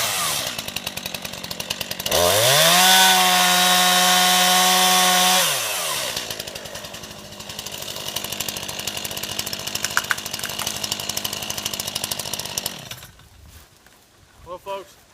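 Chainsaw hinge cutting a hackberry tree on wooded property: a loud, close engine whine revs high for a few seconds, then drops to a rougher idle-like drone while cutting continues, fading near the end.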